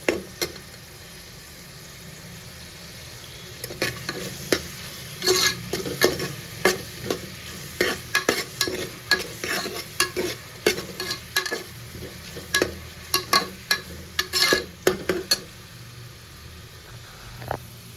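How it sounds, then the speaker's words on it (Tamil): Onions sautéing in a pan for tomato rice: a continuous close sizzle is broken by frequent scraping strokes of a utensil stirring them, in irregular bursts with no talk. "வெங்காயத்தை வந்து நல்லா வதக்கிக்கலாம்"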